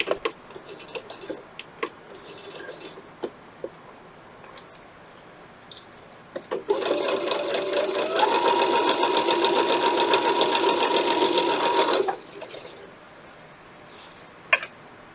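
A sewing machine stitches a quilt block, running steadily for about five seconds in a loud, even whir, with scattered clicks and handling sounds before and after.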